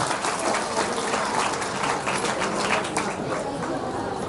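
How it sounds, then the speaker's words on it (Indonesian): Audience applause for the day's presenters at an Islamic school gathering, a dense steady patter of many hands clapping throughout, fairly loud with some crowd noise mixed in. "Tepuk tangannya dulu semua pemateri kita hari ini."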